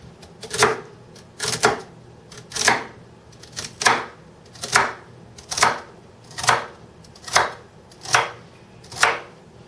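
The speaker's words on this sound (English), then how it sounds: "I'm going to just take a knife and cut them in pieces about ½ an inch thick" Celery is cut with a knife into half-inch pieces on a board, giving about ten crisp, evenly spaced chops at a steady unhurried rhythm, close and clear with no talk.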